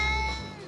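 Large, heavy cat about nine years old at a veterinary clinic giving a single loud, close tonal meow that trails off over under a second.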